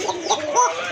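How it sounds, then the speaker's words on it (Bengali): Coca pigeons calling in quick, repeated coos and warbles, close and fairly loud, several short calls in a row with no talk. "খুবই চমৎকার ডাকে, অনেক ডাকে কবুতরগুলো"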